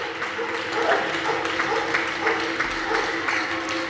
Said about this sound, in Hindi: अपनी अपनी बिल्डिंगों पे लोग जो है वो भरपूर तालियां बजा के जो है वो खराज तहसीन पेश कर रहे हैं।